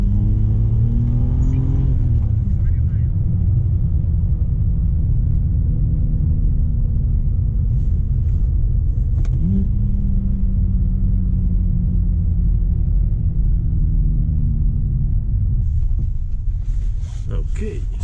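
A BMW 330i E90 pulls hard from a standstill toward 100 km/h on a wet road with heavy wheel spin, engine a loud continuous rumble rising in pitch through gear changes, heard from inside the car with people talking over it.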